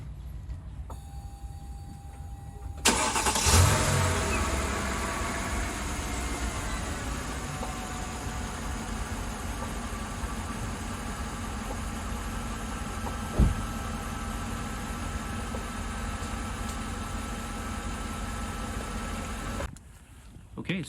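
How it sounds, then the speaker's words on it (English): A 2007 Mercedes E550 W211 with newly installed Arnott air struts cranks and fires, then settles into a smooth, steady idle held close and loud for about seventeen seconds before the sound drops away. "Okay, so I'm just going to start the car and watch it rise up."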